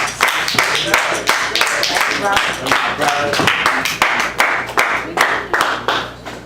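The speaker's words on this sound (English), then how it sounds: "Let's give everybody a round of applause" A gathered audience gives a round of applause, with loud, closely spaced hand claps rising and falling in uneven waves while voices call out through it.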